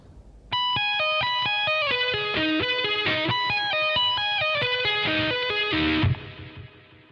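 Distorted electric guitar plays a fast tapped arpeggio with pull-offs, a steady stream of bright, evenly spaced notes sweeping down and back in repeating patterns, loud and alone, then cut off with a brief ringing tail.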